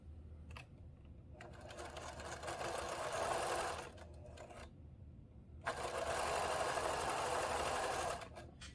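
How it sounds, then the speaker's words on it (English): A sewing machine stitches bias binding fabric in two long runs broken by short pauses and a few brief clicks, its whirring close and steady, with no talk. "I'm going to sew from this crisscross to that one"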